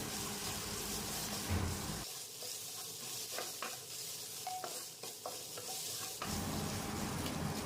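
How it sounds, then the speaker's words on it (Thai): Thai red curry paste stir-frying in oil for pork curry, a steady loud sizzle with spatula scrapes and stirring clinks against the pan, the hiss dipping briefly midway before surging back. "ผัดพริกแกงกับน้ำมันนะ"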